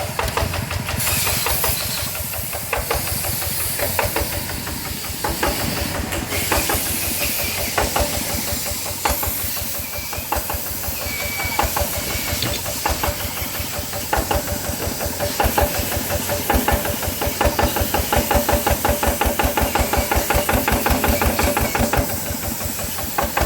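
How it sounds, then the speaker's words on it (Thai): A modified 150cc motorcycle engine idling at low revs with a rattling engine mount, a loud close rhythmic chugging with hissy exhaust and knocking beats running throughout, no talking. "แท่นเครื่องมันจะดังหน่อยนะครับ แท่นมันโดดนะสิ"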